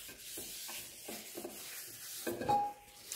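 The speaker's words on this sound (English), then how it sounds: "wipe all the excess off" A cloth rubbing over a cast iron pan, wiping away excess oil after rust removal and re-seasoning; soft, close, repeated scrubbing strokes at a quiet level with no voices.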